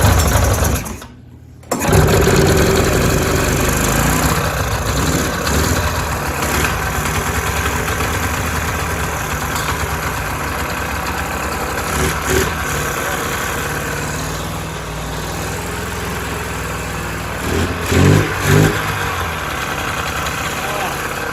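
An old, cheap snowmobile engine running rough on one cylinder, a loud steady rattling idle with brief cuts and a few revs, while people talk nearby.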